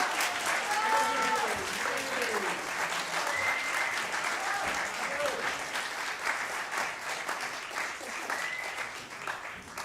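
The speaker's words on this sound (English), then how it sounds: "give our amazing musicians another round of applause" Concert audience applauding musicians at the end of an environmental-themed music performance, a steady wash of clapping from a large crowd lasting throughout, with a few faint voices and whistles over it.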